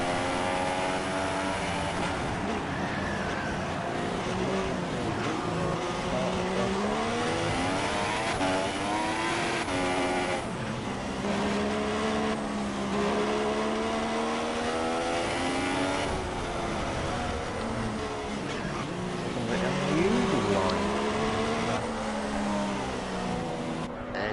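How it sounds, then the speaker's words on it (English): GP2 race car engine in the F1 2016 video game, revved hard through repeated climbing and dropping pitch sweeps as gears change, loud and continuous with no talk over it. "Now, revving the hell out of this thing."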